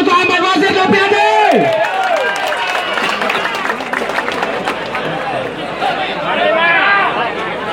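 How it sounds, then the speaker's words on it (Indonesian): Clapping from a crowd at a gathering, rising as a voice fades out, then continuing under lively chatter and overlapping voices, with sharp claps scattered through the babble. "Dan sekali lagi boleh tepuk tangan untuk Ahmad Wazir Nopiade."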